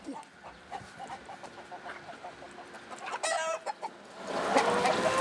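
Chickens kept beside a lake cluck in short repeated bursts, with louder squawks rising toward the end, close by and mostly alone with little talk.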